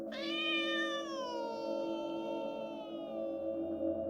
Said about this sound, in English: the meowing of a feline, mournful and out of tune